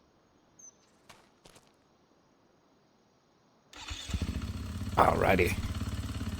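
A motorcycle engine starts in Riverbend Springs, roaring to life after a few quiet clicks and then idling loud and close, with a brief spoken word before it catches.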